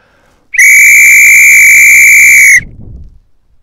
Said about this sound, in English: the NCO's whistle, slightly different sound because it's got a P inside it